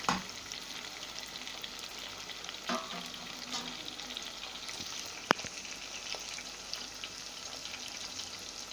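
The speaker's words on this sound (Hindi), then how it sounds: "प्याज को ऑयल में फ्राई करना है, यानी तलना है लाइट ब्राउन होने तक" Onions fry in oil toward light brown while a spoon gently stirs them, giving a faint continuous sizzle with sparse scraping clicks and one sharp metallic tap, and no talking.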